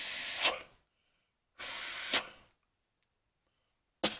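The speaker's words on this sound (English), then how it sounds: "go ahead and blow in here and make sure that the air goes out both sides" Compressed air is blown through the brake lines of a 1965 Chevy C-10 during a disc brake conversion, giving three sharp bursts of loud hiss with silence between them.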